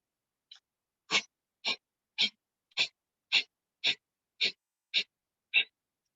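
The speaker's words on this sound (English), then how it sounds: "extending the tongue and panting like a dog" A person pants rhythmically through an open mouth with tongue extended during Kundalini breathing, ten quick, breathy puffs evenly spaced about half a second apart, close and isolated.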